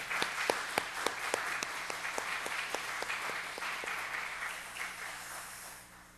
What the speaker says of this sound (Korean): 영광의 박수 한번 치겠습니다.